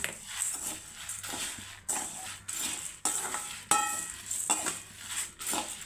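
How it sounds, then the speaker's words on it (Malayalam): A spoon scrapes and clatters in a pan at close range as a chili powder spice mix with salt and asafoetida is dry-roasted, giving repeated rhythmic strokes with soft sizzling between them. "ഇനി നമുക്കിതിനെ നന്നായിട്ട് വറുത്തെടുക്കണം"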